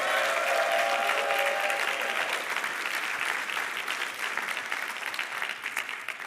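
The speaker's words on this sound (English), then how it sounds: "Let's give the national team, Dave Bush and company, a round of applause for putting this entire event on" A large audience gives a sustained round of applause for the national team and organisers at the NET24 event, dense and loud at first, then gradually thinning toward the end, with no talking over it.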